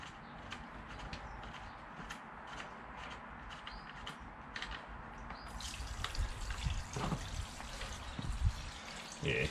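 Used engine oil from a 1994 Triumph Sprint 900 motorcycle drains in a steady trickle and drip into a container, with brief splashes and a slightly louder pour toward the end, close by and fairly quiet.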